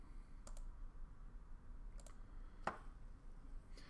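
Computer mouse clicks on a PC, a few sharp isolated clicks spaced out over a few seconds against quiet room hiss, close and fairly soft.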